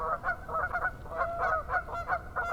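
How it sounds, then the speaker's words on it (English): Several geese honk repeatedly and agitatedly near a fishing spot, a rapid, uneven run of loud nasal calls close by, with no talk. "I don't know why these geese are so upset with me."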